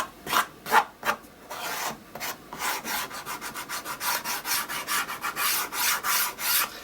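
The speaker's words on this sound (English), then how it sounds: "where I've gone around the edges, just gently sanded to remove any kind of excess" Hand-sanding the edges of a decorated journal cover, rhythmic close rasping strokes, a few slow separate passes giving way to quicker, steadier rubbing.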